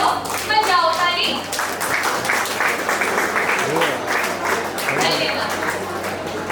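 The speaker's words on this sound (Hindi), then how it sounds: "तो चलो बजाओ ताली।" A school audience at a Hindi Day event in Bhubaneswar claps steadily together, a loud sustained patter of hands with children's voices briefly audible at the start.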